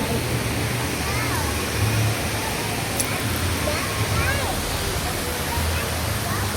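Hinulugang Taktak waterfall in Antipolo, a steady full roar of foaming falling water that holds constant throughout, with faint voices underneath.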